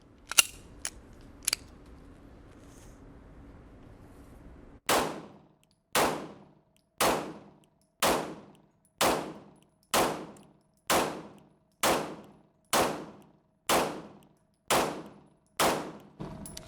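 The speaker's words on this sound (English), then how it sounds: "let's put a couple more rounds down" A 1911 pistol fires about a dozen evenly spaced shots at steel targets, each a sharp crack with a ringing metallic ping, loud and close, after a few scattered clicks and handling noises.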